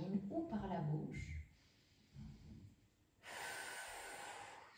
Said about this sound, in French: Dix respirations complètes, toujours inspiration par les narines, expiration comme je veux, comme je peux, par les narines ou par la bouche